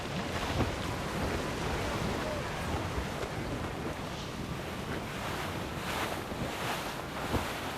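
Strong wind blowing over open sea on a sailing ship, a steady broadband roar with surf-like swells and gusts rising and falling throughout, loud and continuous with no voices.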